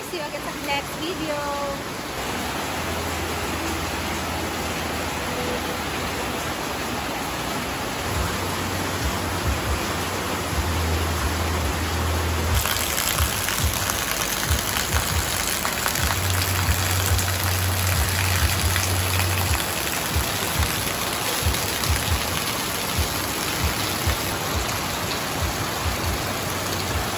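Heavy rain pours steadily outside a function hall, a dense continuous hiss throughout, with a person speaking over it at times.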